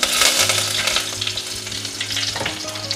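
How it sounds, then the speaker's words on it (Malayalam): A handful of curry leaves drops into hot oil with fenugreek for a Kerala-style fish curry, giving a loud, close, steady sizzle and crackle with faint stirring and no talking. "നമുക്കിതിലേക്ക് 1 പിടി കറിവേപ്പില ചേർത്ത് കൊടുക്കാം."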